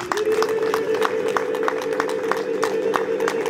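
A church congregation claps in a quick, even rhythm against a sustained vocal drone, with voices faintly mixed in.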